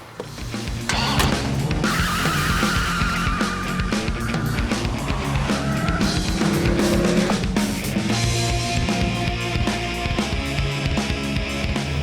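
A Dodge Viper SRT-10's 8.3-litre, 500 bhp V10 engine revs hard and accelerates as tires squeal and skid, loud and close, with no voices over the roar.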